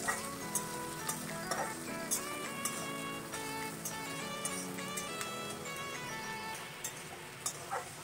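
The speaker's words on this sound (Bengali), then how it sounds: "কুচি করে কেটে রাখা পেঁয়াজগুলো এবার তেলে ছেড়ে দিলাম। ভালো করে ভেজে নিলাম লাল লাল করে" Chopped onions frying in oil give a faint, continuous sizzle under steady background music, with occasional small ticks and pops.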